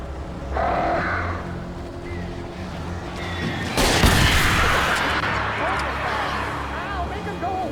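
Birds attacking in the Alan Wake video game: cawing, fluttering crows over a rumbling game backdrop, with a loud blast bursting in midway and the shrill squawks continuing afterward.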